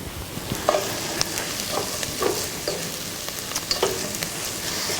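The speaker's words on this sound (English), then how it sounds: "It'll soak up the oil pretty quick, and we're just going to lightly fry it on each side." Eggplant slices lightly frying in oil give a steady soft sizzle with scattered crackles and pops, close and moderately quiet, with no voices over it.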